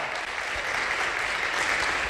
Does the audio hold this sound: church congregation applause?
yes